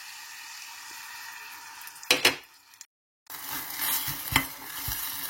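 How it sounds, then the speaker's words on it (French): A spoon scrapes and stirs crumbled fish, parsley, salt and a little water into a paste in a pan, with a soft sizzle underneath and a brief silent gap between stirring strokes. "Remuer jusqu'à l'épuisement d'eau."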